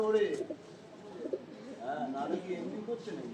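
Home-bred Kalanka baby pigeons coo softly in a loft, low burbling calls repeating close by beneath a voice talking throughout.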